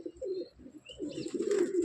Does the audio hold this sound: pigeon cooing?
yes